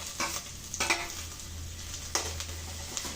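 Green chillies and curry leaves frying in ghee in a pan for jeera rice, a steady soft sizzle with occasional scrapes and stirring clicks, close and fairly quiet.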